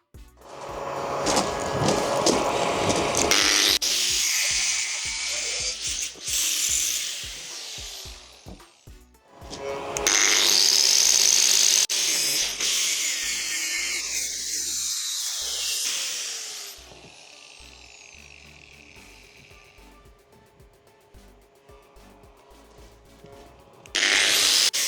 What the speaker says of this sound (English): So I'll go out and cut this bar now and we'll notch it